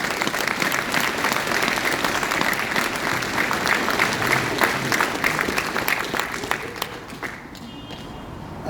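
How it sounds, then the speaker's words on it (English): A crowd at an outdoor memorial silent walk in cold weather claps in a loud, dense round of applause that holds steady for several seconds before tapering off near the end. "I need a much bigger round of applause for everything that I've just spoken about today"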